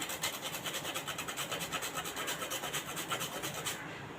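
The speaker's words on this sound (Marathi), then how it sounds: "इथे मी थोडंसं जायफळ किसून घालत आहे" Nutmeg is grated into a jaggery lentil filling with quick, rhythmic rasping strokes that repeat steadily, close and fairly quiet, then stop just before the end.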